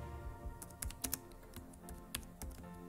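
Quiet, irregular clicks of typing on a computer keyboard, a few quick bursts of keystrokes close by, with no talking.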